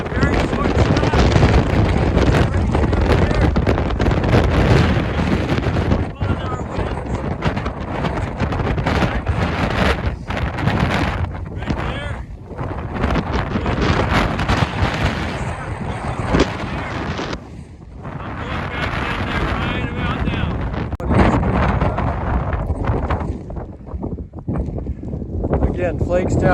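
Strong, roaring wind buffets the microphone nonstop on the summit of Avery Peak in the Bigelow mountains, loud and gusty throughout, with a voice talking intermittently beneath the rumble.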